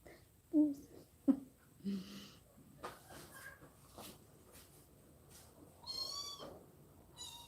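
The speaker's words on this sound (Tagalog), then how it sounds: "Ang pusang makulit." A cat meows in a quiet room, giving several short, faint cries spaced by pauses, with a couple of breathy, wheezy sounds between them.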